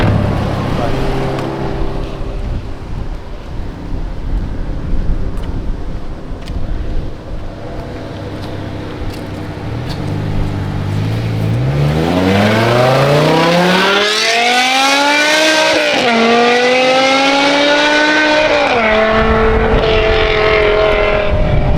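A car with a newly installed exhaust rumbles nearby, then accelerates hard and sweeps past, its rising, revving exhaust note swelling loud and turning away; people's voices are heard early on.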